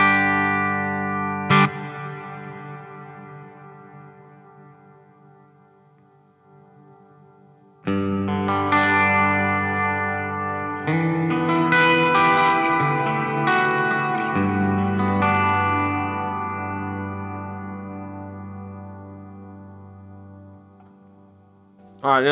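An electric guitar runs through a NUX Atlantic delay and reverb pedal with the decay turned all the way up, its notes and chords swelling and ringing into long, washy reverb tails that slowly die away.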